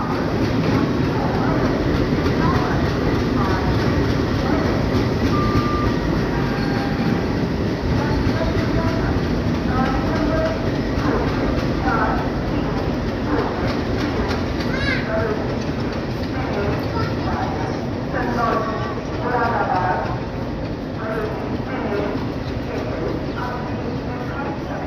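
Twin WDP1 diesel locomotives shunting at a station, a dense steady rumble and rolling rail noise lasting throughout, with voices talking over the continuous din.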